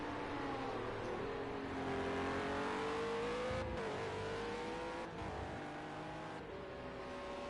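Onboard engine of a World Series by Renault race car holding a steady high drone with gradual pitch rises and brief dips at gear changes, loud and close throughout.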